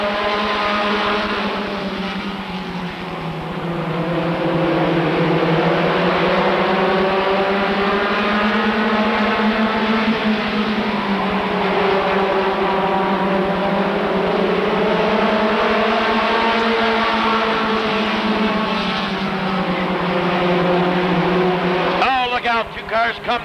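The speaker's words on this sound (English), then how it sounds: "Cars come together and slide down into the infield." Race cars roar around the oval at Rockford Speedway, several engines droning loud and steady with rising and falling pitch as they pass, while an announcer talks over the racing.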